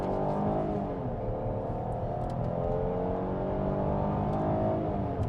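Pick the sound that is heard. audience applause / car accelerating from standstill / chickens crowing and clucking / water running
car accelerating from standstill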